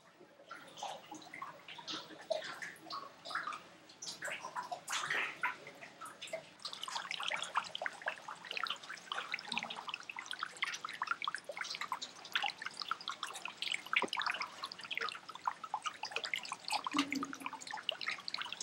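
Water dripping and trickling into stone storage pools called cochas, fed by a central underground channel in the oasis of Pica in the Tarapacá desert; steady dense patter of drops and flowing water, fairly close, with no voices.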